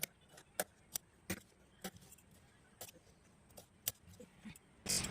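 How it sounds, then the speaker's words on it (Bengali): Scissors snipping pieces of fabric while sewing a churidar, a series of short, sharp cuts spaced irregularly, close by and fairly quiet, with a longer rustle of cloth at the end. "এর পরের কাজ আমার এগুলো এরকম করে কেটে নিতে"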